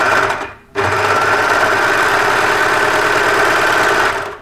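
An overlocker serger stitches and trims a cardigan seam with its cutter engaged, a rapid buzzing mechanical whir with a brief pause near the start, then running steadily and close for several seconds.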